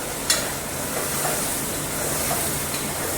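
Spices sizzle in hot oil for a home kitchen tempering, a loud, steady crackling hiss close by, with a few sharp clinks of a utensil against the pan.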